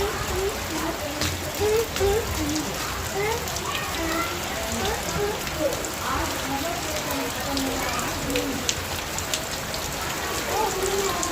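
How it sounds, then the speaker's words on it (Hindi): Heavy rain pours down steadily, a dense, unbroken hiss of drops pattering on surfaces that holds at the same level throughout. "आज काफ़ी ज़ोरों शोरों से बारिश हो रही है"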